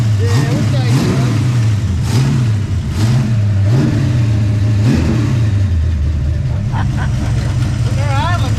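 A car engine idling after a start, then revved repeatedly in short bursts that rise and fall, loud and close, with people talking over it.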